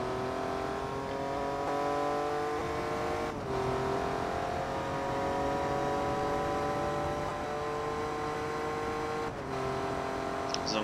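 A Jaguar race car in Forza Motorsport 2 holds a steady high engine drone through an endurance race, with brief gear-shift dips; it runs loud and continuous with no talk.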